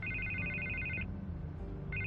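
Telephone ringing in the Batman Telltale video game: a steady electronic trill that rings for about a second, pauses, then starts again, clear over a low background hum.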